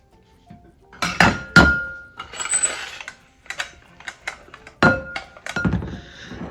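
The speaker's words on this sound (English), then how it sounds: "So I'm going to scoop the potatoes into here and we'll rice them up." Cooked potatoes are scooped into a metal ricer and pressed for gluten-free gnocchi, giving sharp clanks, thunks and metallic clicks in irregular bursts, close up and without talk.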